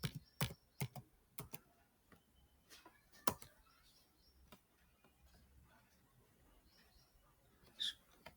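Java code being typed on a computer keyboard in quiet room, with scattered individual key clicks and short bursts of taps spread unevenly, soft and close, with no speech.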